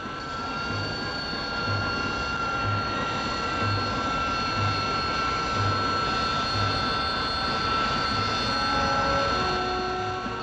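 A loud, steady jet roar with a high whining tone holds continuously from a Hawker Siddeley Kestrel hovering on downward-pointed jet nozzles, a low rhythmic throb pulsing underneath, with no talking.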